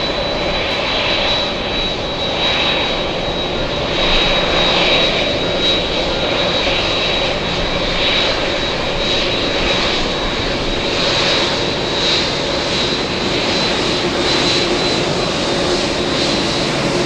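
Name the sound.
Boeing 787 Dreamliner taxiing at JFK airport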